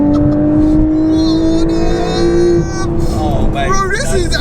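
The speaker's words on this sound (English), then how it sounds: "It's smashing gears in a 2025 brand new 911." A brand-new 2025 Porsche 911 (992.2), modified, accelerating hard and shifting gears, its loud engine note climbing in pitch and breaking at a shift partway through, close and dominant.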